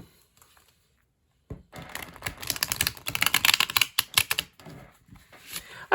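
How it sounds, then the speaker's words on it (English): Tarot cards being shuffled for a pick-a-card reading: a burst of dense, crisp riffling and slapping clicks begins after a short silence and continues in close, uneven flurries. "I'm gonna try to shuffle a little bit more."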